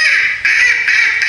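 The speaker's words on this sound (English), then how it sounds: "We got it right. It is the duck." A duck quacks in quick succession, loud and close, three nasal calls run together with brief breaks between them.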